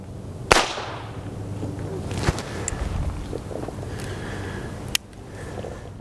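Muzzleloading gun dry fire outdoors, heard as a sharp crack followed by a couple of fainter clicks and snaps against steady wind noise.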